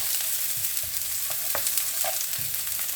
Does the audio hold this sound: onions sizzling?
yes